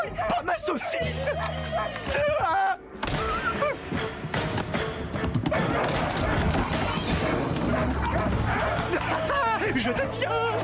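Cartoon dog barking and yipping in a chaotic animated action scene, loud and busy, mixed with music, crashes and overlapping voices.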